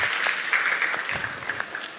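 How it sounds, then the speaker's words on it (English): Audience applause closing a talk at a data science tech conference, steady dense clapping of a moderate crowd heard close and continuous for two seconds with a faint voice underneath. "Please have a round of applause."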